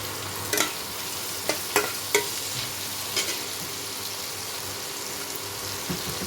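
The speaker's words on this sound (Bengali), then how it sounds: "আলুগুলো ভালো মতো ভেজে নিতে হবে।" Potatoes frying with salt and turmeric in oil, a continuous moderate sizzle with a few sharp stirring clicks early on, no voices.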